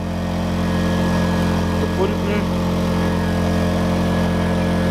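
An Endress 2300i generator powered by a Yamaha MZ80 engine runs while warming up, giving off a steady, loud mechanical drone with a constant pitch, and a voice speaks briefly over it.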